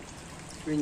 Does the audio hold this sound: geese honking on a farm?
no